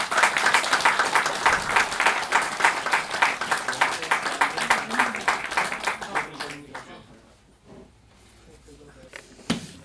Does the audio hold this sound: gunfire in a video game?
no